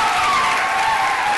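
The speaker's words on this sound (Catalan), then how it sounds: "També fort aplaudiment per ella." Brief, loud burst of studio audience clapping on a Catalan TV quiz show, a dense steady patter with no talk over it.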